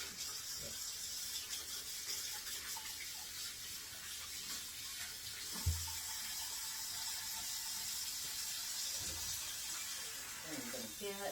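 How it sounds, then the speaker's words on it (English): Hands being washed under a running kitchen tap during home cooking: a steady hiss of flowing water with occasional splashes and a brief clunk midway, moderately faint and continuous. "Just wash my hands."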